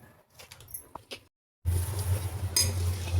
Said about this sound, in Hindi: ये चढ़ा दिया मैंने कढ़ाई, अब मैं करूँगी इनको सौते थोड़ी देर